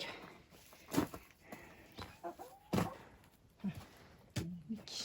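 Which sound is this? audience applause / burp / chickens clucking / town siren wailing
chickens clucking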